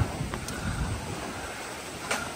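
Strong typhoon wind in Borongan, Eastern Samar roars and buffets steadily, with a couple of brief sharp gusts or clicks standing out over the rushing noise.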